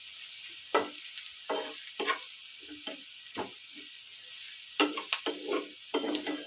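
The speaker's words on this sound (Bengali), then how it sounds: "ভালো করে ভেজে নেব মশলাটা যাতে তেলের উপরে দাঁড়িয়ে যায়" Spice paste frying in oil, heard as a quiet background sizzle broken by repeated bursts of stirring and scraping in an uneven rhythm, close by and without speech.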